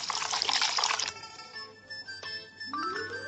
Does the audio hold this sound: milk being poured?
yes